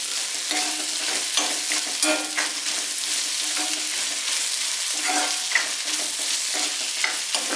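Steady sizzling and crackling of spices, and cashews if used, being sautéed in a pan for a makhana and peas curry, with occasional scraping and stirring clinks, continuous and fairly close, no voices.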